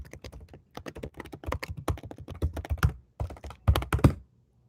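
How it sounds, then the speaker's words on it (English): Fingers type on a computer keyboard up close, producing irregular bursts of crisp key clicks and thunks with short pauses between runs, ending in silence. "I'll even type it out for you."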